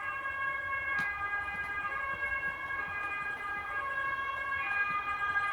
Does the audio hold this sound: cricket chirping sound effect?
no